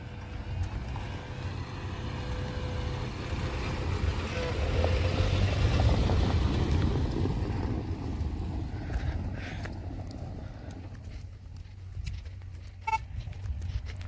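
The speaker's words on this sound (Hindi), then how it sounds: "अब ये देखिए, आज ये वो मोड़ पर गाड़ी बैक करता हुआ मेरा दोस्त।" A Hyundai i10 backing up at a road turn: a steady engine and road rumble swells in the middle and then eases, with a few faint clicks and a short tone late on, heard from inside the car.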